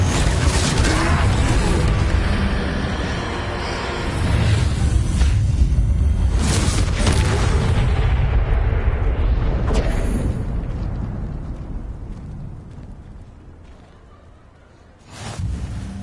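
Confringo spell explosions burst during a troll fight in Hogwarts Legacy, loud roaring blasts and whooshes rolling over several seconds, fading into a lingering rumble before another sharp burst near the end.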